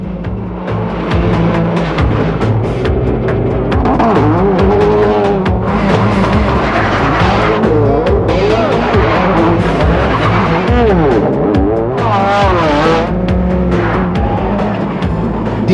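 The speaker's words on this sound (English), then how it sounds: "Didier Auriol makes up for lost time, hard pressed by other competitors" A 1999 World Rally Championship rally car driven by Didier Auriol roars hard, engine revving up and down repeatedly, with tyres skidding and squealing loudly and continuously throughout.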